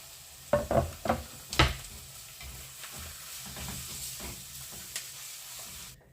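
A few loud clanks and stirring knocks, then a steady low sizzle of carrots frying with browned onion in a pan over medium heat, fairly quiet and continuous.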